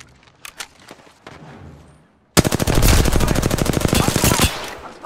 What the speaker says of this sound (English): The enemies are shooting at you.